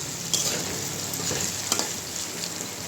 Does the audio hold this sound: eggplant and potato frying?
yes